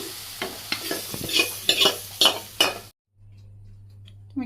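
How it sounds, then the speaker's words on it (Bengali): A spoon scrapes and clinks through khichuri in an oiled wok with a soft sizzle, giving several rhythmic stirring strokes up close before it stops, leaving only a low hum. "কড়াইতে তেল আছে, সেই জন্য আমি একটু খিচুড়ি দিয়ে সুন্দর করে মিশিয়ে তারপরে"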